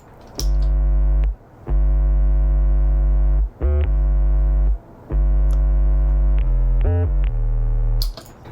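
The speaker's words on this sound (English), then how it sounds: "This is the 808." Deep, sustained 808 bass notes in long held tones with short gaps between them, shifting pitch in a slow pattern, loud and close.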